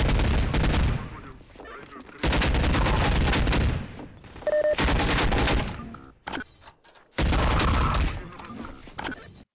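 Rapid bursts of gunfire from the video game Half-Life 2 come in loud clustered volleys separated by short quiet gaps.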